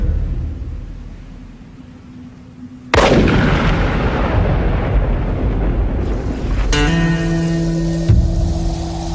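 A single loud, booming gunshot breaks a quiet scene, followed by a long rumbling decay and a lingering tonal hum.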